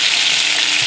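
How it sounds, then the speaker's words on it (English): Pieces of chicken frying in a generous amount of boiling oil, a loud, dense, continuous sizzle and crackle close up, with a soft thump near the end as the meat is turned. "this oil that is boiling is cooking the meat"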